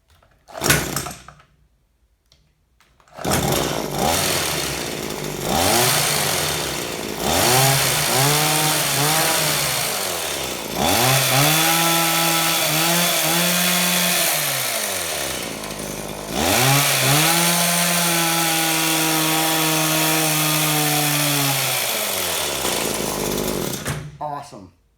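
A small engine fitted with a freshly rebuilt Walbro carburetor diaphragm kit starts and runs loud and close for about twenty seconds, revving up and down repeatedly with a steady, strong idle between surges.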